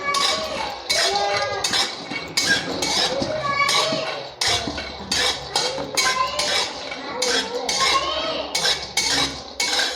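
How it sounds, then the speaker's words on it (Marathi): Peanuts dry-roast in a kadhai for sesame laddu, stirred so they rattle and scrape against the metal in a loud, busy rhythm of clinks and shuffles that runs continuously. "तुम्ही बघू शकता शेंगदाणे असे छान भाजत आहेत."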